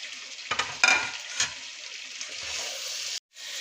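Korma with ginger, tomato, green chillies, coriander and mint sizzles steadily in a pan, with a few soft scrapes of stirring and a brief pause near the end.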